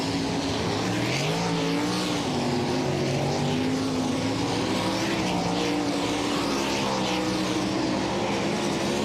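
High Performance karts roaring around a dirt speedway oval during a practice session, several engines droning and shifting pitch together, loud and continuous with no talk over them.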